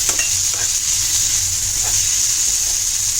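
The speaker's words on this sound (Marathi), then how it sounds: "छान परतून आता त्याला एकजीव करून घ्या" Jitada fish head kheema masala sizzles loudly in a hot pan as it is sautéed, a bright, constant hiss close up with faint stirring scrapes underneath.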